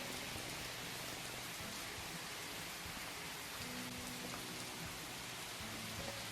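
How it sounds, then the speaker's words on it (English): Rain pours onto pavement in a continuous, even hiss of countless drops spattering the ground, fairly soft and steady with no other sounds. "the recoil of the rain bouncing off the pavement"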